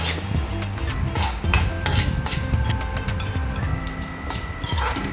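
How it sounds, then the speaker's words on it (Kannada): White sesame and flax seeds roasting together in a pan for dry fruit laddu, with scraping, rattling and stirring clatter against the metal in an irregular rhythm, close and fairly loud. "ಇಲ್ಲಿ ನಾನು 2 ಚಮಚ ಬಿಳಿ ಎಳ್ಳನ್ನು ತಗೊಂಡಿದ್ದೇನೆ ಹಾಗೂ ಫ್ಲ್ಯಾಕ್ಸ್ ಸೀಡ್ಸ್, ಇವೆರಡನ್ನು ಒಟ್ಟಿಗೆ ಸೇರಿಸಿ ಹುರಿಯಬೇಕು"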